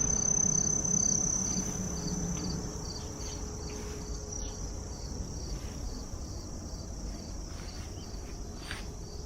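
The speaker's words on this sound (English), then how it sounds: "Sounds of those crickets." Crickets chirp in a garden in a constant, dense shrill trill, with faint pulsing calls layered over soft outdoor background noise.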